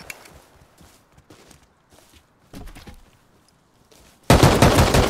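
A burst of gunfire from a player shooting in the survival game Rust erupts loud and dense at the end, after quieter scattered footsteps and small impacts.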